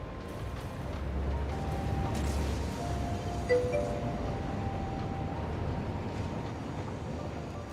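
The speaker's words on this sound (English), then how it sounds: "I've got trains going everywhere" Trains run across a desert factory in the video game Satisfactory, a low rolling rumble with faint metallic clinks and brief tonal whistles, moderately loud and steady, without speech.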